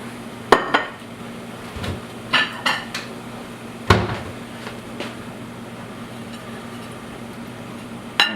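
Plates and dishes clatter and clink in a kitchen while artichokes are weighed down in a pot, several sharp ceramic knocks spaced irregularly over low background hum, close and fairly loud.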